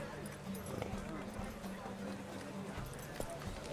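Horse hooves clip-clop in a steady galloping rhythm during a horse race in The Witcher 3 video game, the beat running continuously beneath game sound and someone talking.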